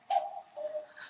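A short birdlike cuckoo call rings out, a bright tonal coo followed by a softer second note, fairly faint and alone.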